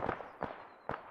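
An armored vehicle on a hill in the game Arma 3 fires three distant heavy shots spaced roughly half a second apart, each a short dull thump over quiet background.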